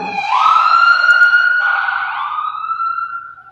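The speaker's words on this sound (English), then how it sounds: "Ambulance?" An ambulance siren wails outside a church, a loud rising and falling tone sweeping steadily, gradually fading as it moves away, with no talk over it.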